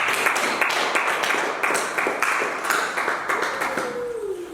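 A church congregation clapping during an evangelistic service, a dense run of rhythmic hand claps that stays fairly loud and close before tapering off at the end.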